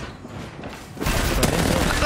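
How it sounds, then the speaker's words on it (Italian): Apex Legends gunfire: a burst of shots and thuds that kicks in sharply partway through and continues densely, loud and close in the game mix. "Stanno sparando"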